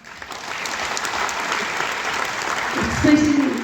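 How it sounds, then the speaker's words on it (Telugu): An audience applauds at a Kuchipudi dance academy's anniversary celebration in Hyderabad. Dense, sustained clapping builds and holds for a few seconds, and a voice briefly rises over it near the end. "ప్రతి ఒక్కరు చప్పట్లు కొట్టాలి"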